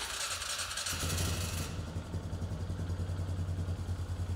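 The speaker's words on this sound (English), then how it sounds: "start the engine and allow it to idle for 10 to 15 seconds" A Polaris Sportsman 500 ATV engine idles steadily up close, a low, even putter with mechanical clatter that continues throughout after a brief burst of higher noise at the start.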